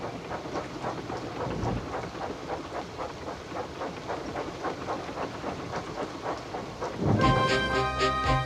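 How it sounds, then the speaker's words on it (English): Steady rain hisses over a rhythmic rumbling train with clacking wheels in a train simulator game, and a bright tonal sound swells in near the end. "The rain streamed down Percy's boiler"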